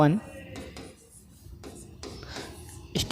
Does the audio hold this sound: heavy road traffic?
no